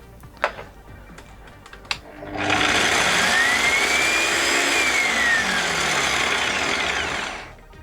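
A Kenwood food processor with a fault that makes it switch off runs at a steady, loud whir for about five seconds, rising and falling slightly in pitch, after a few faint clicks, then winds down.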